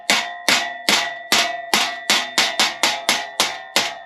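A hammer bangs on a piece of metal clamped in a vise during rust repair on a 1987 K5 Blazer. About eleven sharp, ringing strikes land in quick, slightly uneven succession, loud and close, each leaving a short metallic ring.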